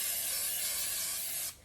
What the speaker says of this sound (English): You gotta spray your pan.